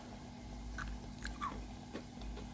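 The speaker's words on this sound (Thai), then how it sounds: "รับประกันความกรอบแน่นอนค่ะเดี๋ยวดูจะกัดให้ฟังนะคะ" Crunchy baked brownie cookie bitten at close range, a few sharp crisp crunches standing out over a steady low background hum.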